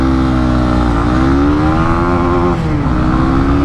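Honda CB300R motorcycle engine pulling under acceleration, a loud, close single-cylinder drone rising in pitch, dipping at a gear change, then climbing again with no talking.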